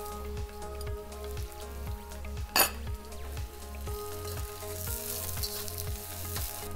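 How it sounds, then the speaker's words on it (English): Onions and soaked shiitake mushrooms fry in a pan for an Asian-style beef stir-fry, giving a crisp, continuous sizzle with one sharp crackling burst midway, all over a steady, rhythmic low thumping beat. "I'm going to put my onions in and my soaked shiitake mushrooms."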